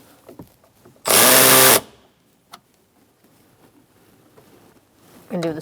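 A power tool snugs down sunroof glass bolts on a 2007-2017 Ford Expedition in one short, loud burst of under a second, with quiet handling noises before and after.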